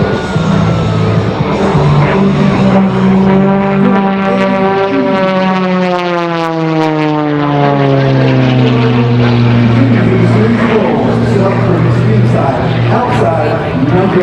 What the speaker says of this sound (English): Look at the incredible roll rate on that Window World MXS.